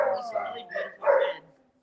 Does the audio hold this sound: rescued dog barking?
yes